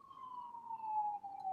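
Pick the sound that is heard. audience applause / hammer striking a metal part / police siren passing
police siren passing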